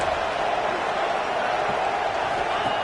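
A football stadium crowd roaring during a red zone defensive stand in a college playoff game, a dense, steady wall of noise with no breaks.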